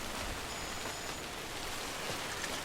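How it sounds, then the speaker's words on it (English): Timefall rain in Death Stranding falling in a snowy mountain setting, a steady hiss of pattering drops, soft and even throughout with no voices. "Oh, now it's raining."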